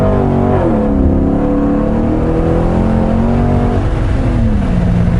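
A Corvette C6 Grand Sport accelerates hard, its exhaust roaring loud and close with rising engine tones that climb, dip at a gear change and climb again, steady and without speech.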